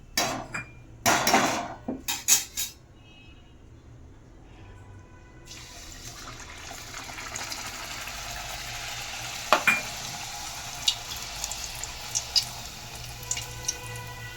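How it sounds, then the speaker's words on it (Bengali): Sago luchi frying in hot oil, a soft continuous sizzle building after a few clattering knocks at the start, with occasional light utensil taps over the steady bubbling. "তেল গরম হয়ে গেছে, এবার আমি একে একে লুচি ভেজে নেব।"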